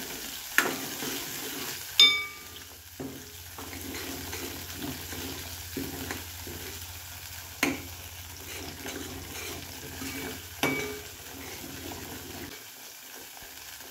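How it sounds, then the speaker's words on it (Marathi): Ground peanut masala paste being sautéed and stirred in a pan, a soft continuous sizzle broken by a few sharp scraping clicks of the spoon, close and fairly quiet with no talking. "वाटण टाकून घेणार आहोत। याला चांगलं परतून घ्यायचं"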